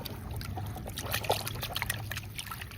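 Water trickles and splashes faintly and continuously while a dirty toy car is washed, heard up close with no talking.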